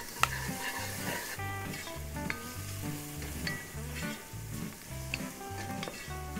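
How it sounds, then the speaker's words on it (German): Onions and garlic frying with caraway in a pot on a grill, producing a continuous sizzle with occasional stirring clinks, moderately quiet and without speech. "nehme ich mir die Zwiebeln und den Knoblauch, gebe das dann ebenfalls in den Topf rein"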